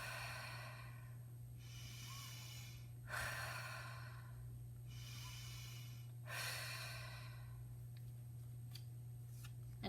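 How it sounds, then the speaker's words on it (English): Three slow, deep breaths drawn in a quiet room during a meditation, each long airy inhale and exhale swelling then fading, with a steady low electrical hum beneath and no talking. "I put this against my heart and I take 3 breaths."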